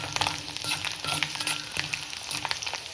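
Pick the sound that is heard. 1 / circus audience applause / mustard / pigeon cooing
mustard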